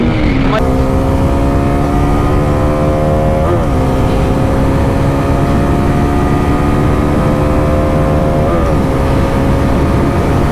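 Bajaj Pulsar NS400z and N250 motorcycles in a drag race, heard as a loud, sustained engine roar rising in pitch through gear shifts, close and dominating with strong wind noise.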